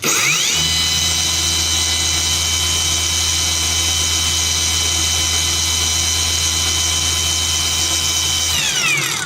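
A new PATUOPRO angle grinder spins up quickly, runs at a loud, steady high-pitched whine close by for several seconds, then winds down at the end.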